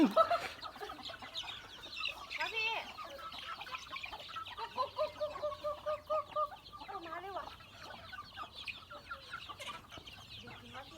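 Chickens being caught for straw-baked chicken cluck and squawk in agitated bursts, close and fairly loud, with some faint background voices.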